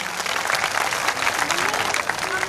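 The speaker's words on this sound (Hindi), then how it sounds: "हमारे पंडित जी के लिए एक बार जोरदार ताली से अभिवादन हो जाए।" At a Bhagwat Katha religious gathering in a village, an audience breaks into loud, sustained applause, dense clapping with a few voices underneath.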